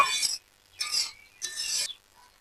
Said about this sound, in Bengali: খোসাগুলো ভালো করে একটু চিনির মধ্যে নাড়িয়ে নেব